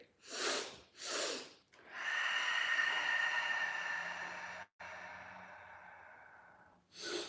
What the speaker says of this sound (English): we're going to exhale in a one long fluid exhalation through the mouth